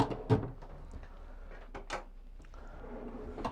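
A storage compartment in a police drone van thuds shut up close, followed by light shuffling and a few soft knocks nearby.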